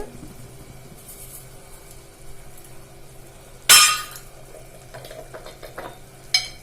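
Tomato masala cooks in a pan under a faint background sizzle while a spoon stirs and scrapes, with one loud clattering knock of metal on the pan partway through and lighter clinks after it.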